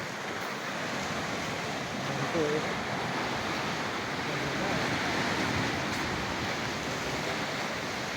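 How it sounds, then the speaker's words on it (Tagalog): Rough waves break and wash continuously on the beach at Laiya, San Juan, Batangas, a steady roar of surf with a brief spoken voice over it. "Maalon nga lang, pero maganda nga po itong maalon."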